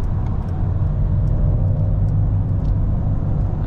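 Cabin rumble of a 2023 Mercedes-Benz EQE 500 4Matic electric SUV driving on the road, a loud steady low drone of tyres and motion with no voices.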